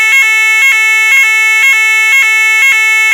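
An ESSER fire alarm sounds loud and close, a sustained harmonic tone broken at a steady rhythm of about two pulses per second, repeating without letup.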